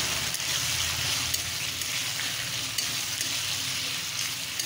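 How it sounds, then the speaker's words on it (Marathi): Peas and potatoes frying with onions in a pan for spiced rice, a steady soft sizzle with faint stirring scrapes, close and even throughout. "आता वाटाणा आणि बटाटा आपण घालून घेऊया"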